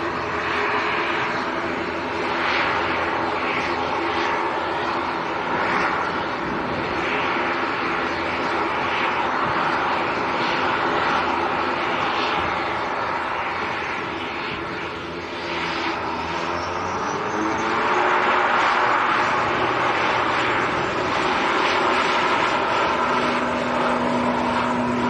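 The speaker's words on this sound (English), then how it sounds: "a Dreamliner to Toronto." Air Canada Boeing 787 Dreamliner jet engines at Manchester Airport, a sustained loud whine and rumble that dips briefly midway and then rises again with a rising tonal whine.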